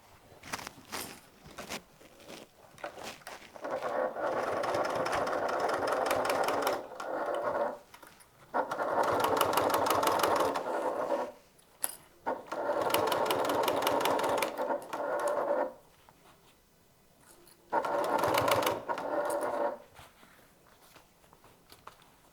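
A sewing machine runs in four sustained bursts with short pauses between them, stitching the lining layer of a top handle bag with a quarter-inch seam allowance.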